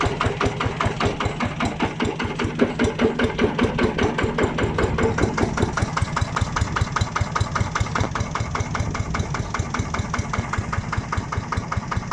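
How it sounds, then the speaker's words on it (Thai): A small Yanmar TF110DI diesel engine running steadily, a fast even knocking chug that holds a constant pace from start to finish, close by. "เสียงเครื่องนิ่มมากนะครับผม"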